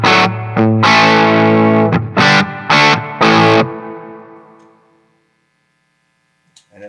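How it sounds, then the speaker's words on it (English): An overdriven electric guitar through a Nace M3-7R amp head plays a few loud, distorted chords in bursts, then a final chord rings out and fades into silence. "it's got a really nice overdrive happening."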